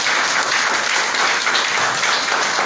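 Audience at a union meeting in Gabon, the installation of a health-sector union executive, claps steadily, a dense, even wash of applause held at one level throughout with no talk over it.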